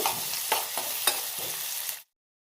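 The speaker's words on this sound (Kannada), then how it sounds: "ಚೆನ್ನಾಗಿ ಫ್ರೈ ಆಗಬೇಕದು ಈರುಳ್ಳಿ. ಈ ಥರ ಚೆನ್ನಾಗಿ ಫ್ರೈ ಆಗಬೇಕು." Onions fry in a pan with a bright, even sizzle, broken by several sharp scrapes as they are stirred, before the sound cuts off abruptly.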